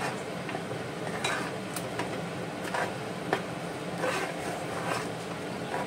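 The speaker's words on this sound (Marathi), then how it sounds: "आतां हो मसाला ऍड कोता आनी हेका मिक्स करून घेता" A spoon stirs freshly added masala through a pot of mutton xacuti, giving repeated scraping clinks against the metal over a soft, steady sizzle. The sound is close and moderately loud, with no voices.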